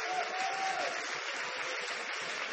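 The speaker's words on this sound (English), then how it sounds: "let's clap our hands and praise Him together" A church congregation claps hands in praise, a dense steady wash of applause filling the room throughout, with a faint voice briefly audible under it.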